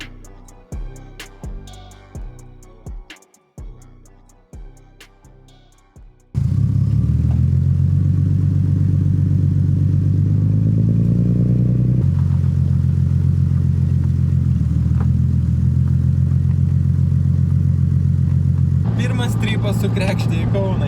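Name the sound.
BMW E36 turbo car driving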